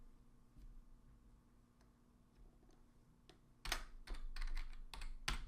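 Typing on a computer keyboard while labelling a line graph axis: a few sparse faint clicks at first, then a quick close burst of keystrokes over a quiet room hum.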